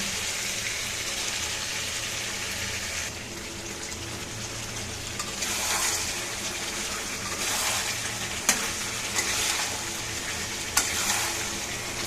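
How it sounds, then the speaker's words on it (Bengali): Chicken pieces cook in hot oil with ginger, cumin and onion paste for chui jhal curry, giving a continuous, fairly loud sizzle and bubbling with occasional stirring knocks, no talking. "দেখেন আমি এবার মাংসটা ঢেলে দেব।"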